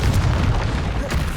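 Confringo fire spell blasting in Hogwarts Legacy, a continuous rumbling explosive boom that stays loud and dense throughout, with no talking over it.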